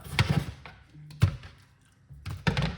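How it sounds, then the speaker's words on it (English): Watermelon pieces dropping into a blender jar make a few close, dull thunks and soft taps, spaced out over a few seconds in a quiet kitchen. "so I'll put some watermelon inside of the blender"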